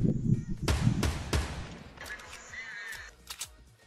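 Several sharp Fortnite gunshots in quick succession, loud and punchy, followed by quieter electronic game sounds and a few fainter shots.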